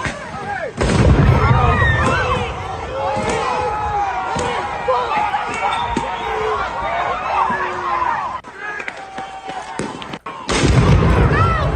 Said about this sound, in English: we just had an explosion. We just had an explosion here.